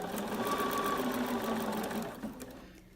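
A Bernina sewing machine fitted with a 37D presser foot stitches at a steady, fast mechanical whir with a rhythmic needle clatter, close and even, then slows and fades at the end.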